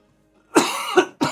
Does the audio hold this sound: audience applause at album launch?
no